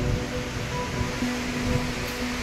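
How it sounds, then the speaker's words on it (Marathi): Steady surf of sea waves on Malvan beach in Sindhudurg, Konkan, with Sindhudurg fort offshore, a continuous broad wash of breaking water heard close and fairly loud throughout, with no talking. "समुद्र बघा पूर्ण क्लीन आहे"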